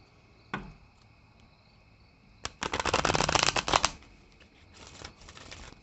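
Soul's Journey tarot cards are shuffled close by in a fast riffle lasting about a second and a half, preceded by a single tap and followed by a shorter, quieter burst of card flicks.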